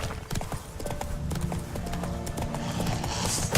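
Geralt's horse Roach in The Witcher 3 clip-clops along in a steady, close gallop of rhythmic hoofbeats, loud and continuous, with a short snort or whinny-like burst at the very end.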